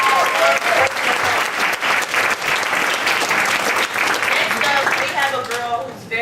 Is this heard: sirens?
no